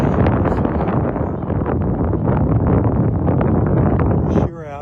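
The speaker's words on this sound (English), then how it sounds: "walking into that wind. It's a cool breeze coming out of the" Wind buffets a microphone on the beach at Pelican Bay in Naples, Florida, a loud continuous rumble and roar that eases near the end.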